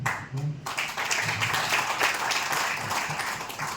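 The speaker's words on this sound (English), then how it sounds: "Maybe we need also to give them a clap very much." A workshop audience in South Sudan breaks into steady clapping after a brief pause, a dense wash of many hands that carries on to the end, with a voice faintly audible underneath at the start.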